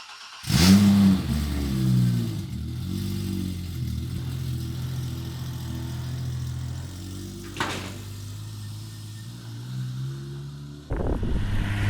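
BMW E30 engine cranks and fires up close by in a workshop, settling into a steady idle with a couple of light blips of the throttle, then a sharper rev near the end.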